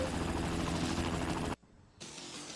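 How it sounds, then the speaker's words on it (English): Helicopter in the video game Spider-Man 2, a loud steady rotor roar that cuts out abruptly to near quiet, then resumes a moment later. "For whatever goddamn reason, I couldn't catch up to the copter."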